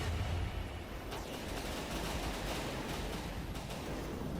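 A barrage of small frag rounds in From the Depths: a soft, dense rumble of rapid impacts and popping bursts. It stays fairly quiet and continuous, with a wash of sea-like noise beneath it.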